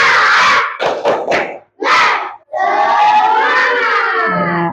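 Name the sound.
group doing the 'tepuk semangat' spirit clap chant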